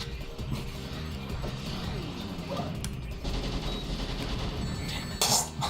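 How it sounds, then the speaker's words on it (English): Dense gunfire and explosions from the Shadow the Hedgehog video game, a steady barrage of rapid shots filling the scene, with a louder burst near the end. "it's just like gunfire everywhere"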